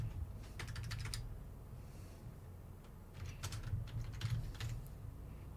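Typing on a computer keyboard, scattered bursts of rapid soft key clicks over a low steady background hum, fairly quiet and close with no voices.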